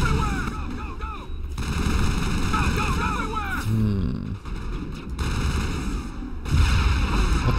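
Heavy gunfire and booming blasts fill a combat scene in the Mass Effect game, loud and continuous with rapid shots, a deep explosive rumble near the end, and voices calling out over the din.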